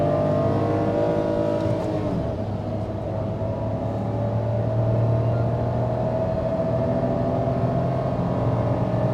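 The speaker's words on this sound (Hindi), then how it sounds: "All the way 6000 RPM, 6500 RPM पे रेडलाइन कर रही है।" The engine of a 2025 Renault Triber seven-seater with an automatic gearbox revs steadily higher toward its redline, a loud, continuous rising drone heard from inside the car with no talking.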